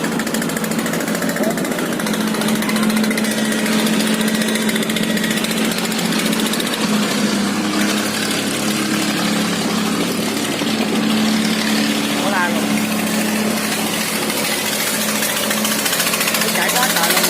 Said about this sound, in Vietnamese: đua nhau mà chạy ra quá tay luôn